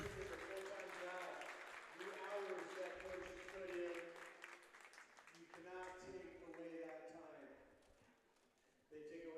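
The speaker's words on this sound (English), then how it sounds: "Round of applause again for Coach Robert" Crowd applause at a high school basketball game in a gym for a coach's 200th career win, steady clapping mixed with cheering voices and murmur, fading near the end.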